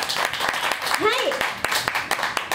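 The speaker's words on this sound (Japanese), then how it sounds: "喜びが伝わってこない拍手はこれなんで初めてですね" Scattered, unenthusiastic clapping from an audience at an in-store live at a record shop, sparse claps under a performer's talking.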